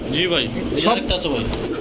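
Pigeons coo softly in short repeated phrases, close by, with someone talking over them.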